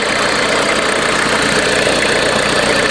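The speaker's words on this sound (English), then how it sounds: "You can hear a slight change in RPM." A vehicle engine idles steadily with an alternator being excited, its RPM shifting slightly; a loud, continuous mechanical drone fills the whole stretch without speech.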